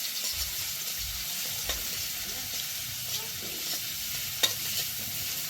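Fried rice stir-fried in a pan, with a continuous sizzle and occasional scrapes and knocks of the spatula, one sharp clink near the end, and no talking.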